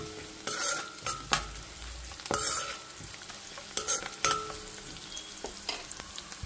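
Sliced onions frying in a pan with turmeric for poha upma, soft sizzling under sharp intermittent scrapes and stirring strokes of a spatula, close and fairly quiet.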